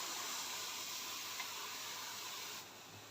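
A steam iron presses fabric for a 3D appliqué on a dress. A steady, soft hiss of steam runs throughout and eases off near the end.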